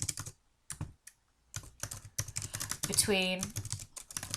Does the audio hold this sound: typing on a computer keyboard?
yes